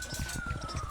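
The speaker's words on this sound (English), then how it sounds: "Oh, great. More sirens." Sirens wail during the Martian Madness event in Terraria, a steady electronic tone over pulsing rhythmic game sounds, moderately loud.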